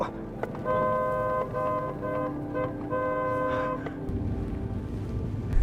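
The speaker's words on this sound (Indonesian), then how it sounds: "Itu kok mobil papa kamu klakson terus?" A car horn honks in several long blasts, separated by short gaps, loud and close, against engine rumble and road noise.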